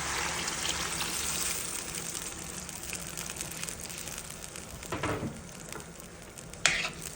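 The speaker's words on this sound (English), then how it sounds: "I'm going to add this water to my pot with the meat." Water poured into a pot of seasoned stewing beef on the stove, a steady hiss and gush with sizzling and a few clinks, close but fairly quiet.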